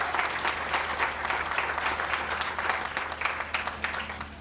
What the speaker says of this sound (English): I want you to please give applause for this wonderful